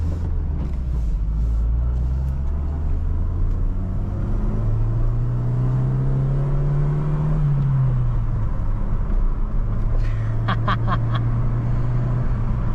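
A 2010/2011 Ford Fiesta's 1.0 Rocam engine runs steadily with a low rumble, its pitch rising as it revs up and then settling back, with a few faint clicks near the end.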